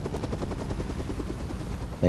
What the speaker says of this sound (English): Hear a helicopter